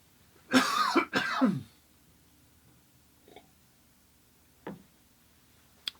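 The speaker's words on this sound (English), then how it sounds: "Wow, I have a cough." Two sharp, harsh coughs close to the mic, followed by a couple of faint clicks and small noises in an otherwise quiet room.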